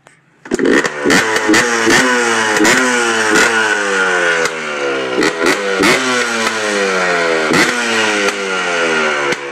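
A 2004 Yamaha Blaster ATV engine with a freshly cleaned carburetor fires on the first kick, then revs hard and repeatedly, its loud buzzing note rising and falling in sharp bursts up close.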